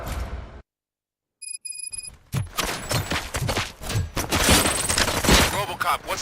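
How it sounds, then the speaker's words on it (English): Gunfire in the video game RoboCop: Rogue City: after a brief silence and a few electronic beeps, a dense burst of rapid shots and impacts erupts loudly, continuing in a sustained barrage. "Gunshots? What's going on?"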